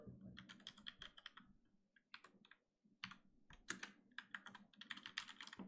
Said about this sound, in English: Just typing some gibberish over there